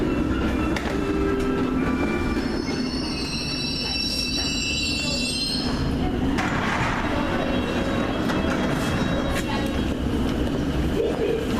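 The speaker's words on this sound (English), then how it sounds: "Just coming into Euston Square tube station now" A London Underground train pulls into Euston Square tube station with a loud, continuous rumble, high wheel squeals and clattering rails heard close from inside the carriage, and a voice speaks briefly over it.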